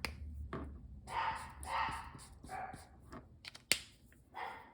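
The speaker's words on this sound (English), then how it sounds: "here we go again with the barking" A dog barks several times at a moderate distance, short rough yaps spaced irregularly, with a sharp click or snap partway through.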